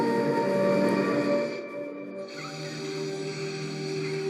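Saxophone blown breathily without a clear note, an airy hiss layered with a sampled melody playing the same line; louder early on, then softer and thinner.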